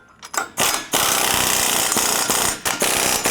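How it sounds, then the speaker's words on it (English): A ratcheting wrench tightens 19 mm bolts on a truck lift kit, giving loud, close bursts of rapid clicking in several strokes separated by brief pauses. "So I'm using a ratcheting wrench here, and these are just 19s or 3/4."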